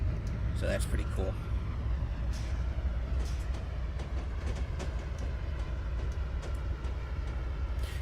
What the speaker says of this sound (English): These are ES44AC locomotives